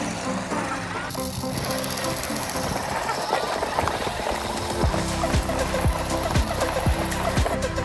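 Two large, powerful RC cars with engines that emit smoke race side by side, making a continuous buzzing engine drone with rapid rattling and rhythmic knocking pulses, with voices over the noise.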